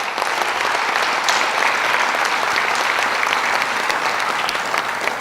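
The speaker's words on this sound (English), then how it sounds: "Please give them a round of applause." Loud, dense applause from a women's symposium audience for the girls, many hands clapping continuously and evenly throughout, close and full with no voices.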